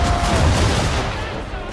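Swivel guns firing during an Assassin's Creed III naval battle, a loud, rumbling rush of cannon blasts and explosion roar that stays heavy throughout, with shouted voices mixed in.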